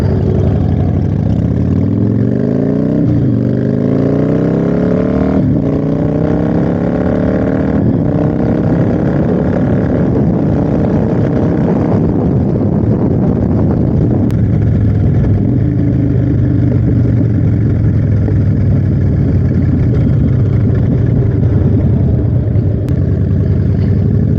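A 2009 Harley-Davidson Screamin Eagle CVO Softail Springer motorcycle ridden hard, its engine roaring loud and close with repeated rising revs through gear changes, steady wind rush throughout.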